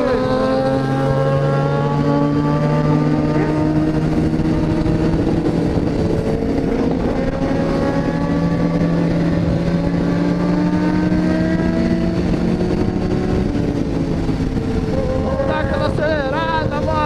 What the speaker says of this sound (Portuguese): Vou dar acelerada aqui, vou dar aquela acelerada